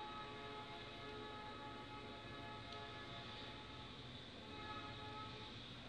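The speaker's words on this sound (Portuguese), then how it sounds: "Ah, o trem está passando no fundo." A train passes far off in the background, a faint, steady rumble with a thin tonal whine carrying on for several seconds.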